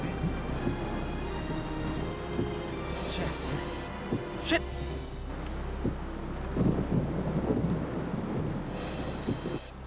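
Thunderstorm with rain drumming outside a stalled old car, a low steady rumble and wash of wind and water with a sharp thunder crack midway, while a man mutters in frustration.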